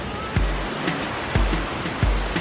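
The Mur River rushes past nearby in a continuous broad wash of flowing water, broken by a few soft, regularly spaced thumps, with no one speaking.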